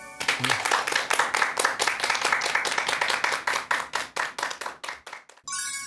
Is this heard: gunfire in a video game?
no